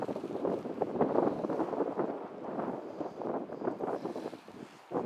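Gusting wind blows across a mountain campsite in the Sierra Nevada, buffeting the microphone in rough, uneven surges that swell and ease over several seconds, fairly faint and with no voices.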